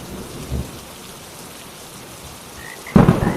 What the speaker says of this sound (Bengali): দাদা, কত জোরে বৃষ্টি নামলো দেখ